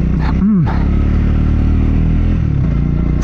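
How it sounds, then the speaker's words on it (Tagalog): A Triumph Scrambler 400X motorcycle engine idles and rumbles steadily up close, with a brief rising rev near the start and a continuous low throb throughout. "Whatever it is, it's a torquey engine."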